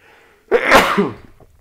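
A single loud, close human sneeze bursts out after a brief quiet intake of breath, then trails off into a short exhale.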